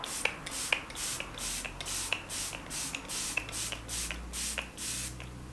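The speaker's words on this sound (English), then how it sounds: "I'm gonna use my setting spray now" About a dozen quick mist sprays of makeup setting spray pumped in a steady rhythm, close by and fairly soft, with nothing else around them.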